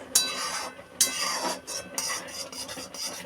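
A spatula scrapes and rasps through mango lachha in a pan, giving repeated close scraping strokes of uneven rhythm, with no voices.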